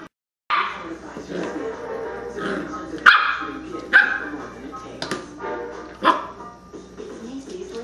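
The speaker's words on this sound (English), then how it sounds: "What are you barking at?" A Corgi puppy barks in short, sharp yaps spaced a second or so apart, close and loud, with a voice talking between the barks.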